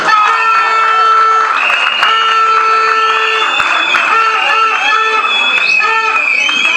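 Wedding guests clap and cheer loudly and steadily at the reception, close and continuous, under sustained musical tones throughout.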